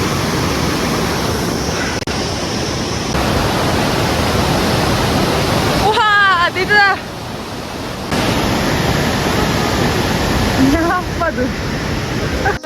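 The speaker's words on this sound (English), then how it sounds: "But these waterfalls and nature is what kept me going throughout." Steady rushing of a waterfall on a Himalayan trail in Nepal fills the whole clip, broadband and continuous, with a brief bird chirp and faint voices partway through.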